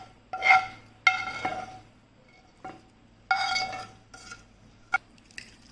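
Oil being stirred into a pickle mixture of ingredients and jaggery, heard as a few separate scraping, clinking strokes of a spoon against a bowl, with quiet pauses in between.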